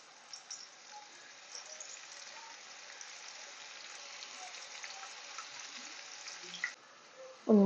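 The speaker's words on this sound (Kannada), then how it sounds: "ಒಂದು 3-4 ನಿಮಿಷವರೆಗೂ ಚೆನ್ನಾಗಿ ಫ್ರೈ ಮಾಡ್ಕೋಬೇಕು. ಚೆನ್ನಾಗಿ ಕ್ರಿಸ್ಪಿ ಆಗುತ್ತೆ ನೋಡಿ, ಎಷ್ಟು ಚೆನ್ನಾಗಿ ಸೌಂಡ್ ಬರ್ತಾ ಇದೆ" Raw banana bhajji frying in hot oil, a steady soft crackling hiss that holds evenly for several seconds before stopping, followed by a brief louder clatter at the very end.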